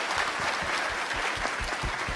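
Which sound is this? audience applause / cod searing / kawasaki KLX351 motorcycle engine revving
audience applause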